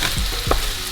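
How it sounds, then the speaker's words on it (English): A spoon scrapes and stirs fried rice against the bottom of a pot over steady sizzling, two distinct close scraping strokes in under a second. "you want to make sure you stir to the bottom of the pot"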